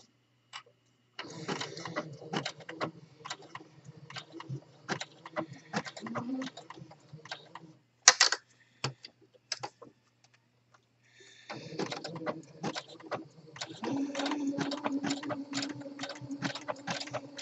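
Sewing machine stitching a hem on fleece with an overcast foot, giving bursts of quick, rhythmic needle clatter, a brief pause and a few clicks mid-way, then a steady run of stitching again, fairly faint and close.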